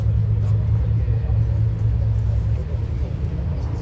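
A McLaren 650S Spider supercar gives off a loud, steady low engine rumble at a supercar gathering on a Paris quay.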